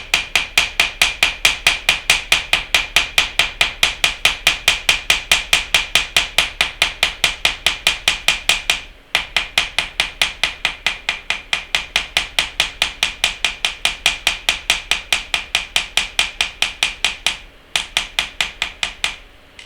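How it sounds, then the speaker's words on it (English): Rapid, regular metallic hammer taps on silver wire, dozens in a row, close and bright, with two brief pauses between runs. "So I'm going to hammer it just like I hammered the other end."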